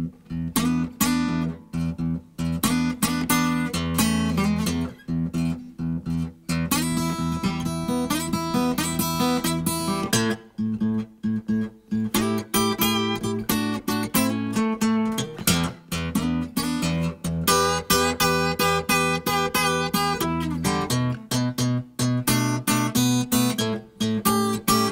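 Acoustic blues guitar rhythm picked on a single string with the thumb keeping a steady repeated bass pattern, loud and close, playing continuously without talk.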